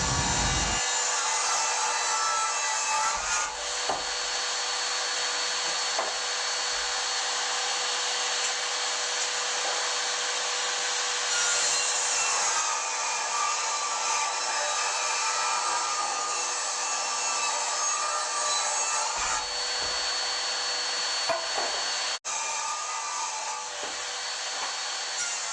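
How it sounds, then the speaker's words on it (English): A table saw rips 2x10 wood boards lengthwise into 2-inch strips, its steady high whine running loud and continuous with brief dips between passes and no talking. "Now all 3 boards from the first 2x10 will get ripped at 2 inches, and there will be 4 pieces from each board."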